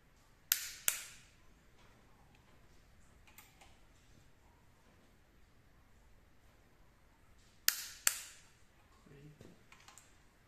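A torque wrench tightening cylinder head bolts on a Land Rover 200TDI engine during a head rebuild, heard as two pairs of sharp metallic clicks several seconds apart against a quiet background.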